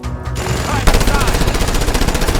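Rapid, sustained machine-gun fire from a mounted gun in Just Cause 2, loud and continuous after a brief quieter start, with dense rhythmic bursts and other gunfire sounds layered in a chaotic firefight.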